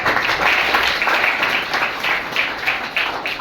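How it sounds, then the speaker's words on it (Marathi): Audience applause fills a school hall during a project presentation event, a steady, dense wash of many hands clapping, loud and continuous throughout with no pauses. "आपण टाळ्या वाजवून घेऊ"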